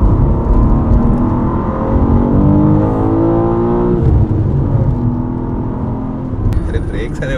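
BMW M2 with a manual transmission driving, its engine note rising and falling through gears as a steady close cabin drone, with people talking over it throughout.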